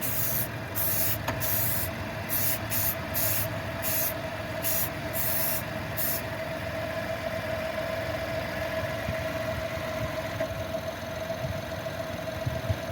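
Clear coat sprays onto a repaired diamond cut rim from a 2023 Chevy Trailblazer in short rhythmic bursts over a steady idling engine hum, then the spraying stops and the low engine drone continues alone.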